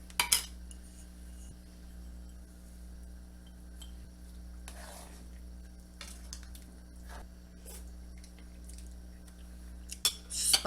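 Dishes being washed in a home kitchen while chicken veggie soup cooks, with sparse clinks of cutlery and pots scattered over a quiet steady hum, a few sharper knocks near the start and end.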